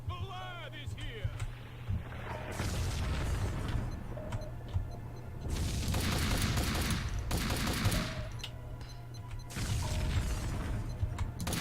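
Gunfire in the PC shooter Max Payne 2, with dense bursts of shots and booming blasts coming in waves, loud and close, while a player talks over the action.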